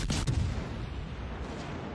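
A loud boom of heavy naval gunfire from the battleship Edinburgh in World of Warships Legends opens, followed by a rumbling roar that lingers and slowly fades, with no voices.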